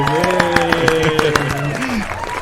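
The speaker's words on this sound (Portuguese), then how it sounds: "Palmas para o Éder." Audience applause at an astronaut-themed talk event, with quick rhythmic clapping over a steady bed of voices and tonal sound from the room.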